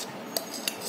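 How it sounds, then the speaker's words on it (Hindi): Food colour being stirred into a sprinkle mixture in a bowl, with a utensil softly scraping and three brief clinks against the bowl, close and quiet. "फिर हम फूड कलर को इस तरह से मिक्स कर लेंगे"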